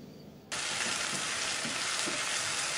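Ground chili paste hits hot oil after a quiet start and bursts into a loud, steady sizzle that continues close by while it is stirred.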